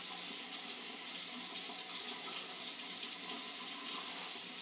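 Hot water running from a tap into a sink while it is splashed onto the face before shaving, a continuous close hiss of flowing water with no voices.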